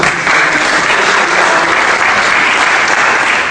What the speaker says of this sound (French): Et votre public, on peut l'applaudir pour ça.